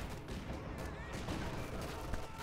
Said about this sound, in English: Now they're going to fire rifle grenades